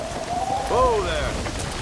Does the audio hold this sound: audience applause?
no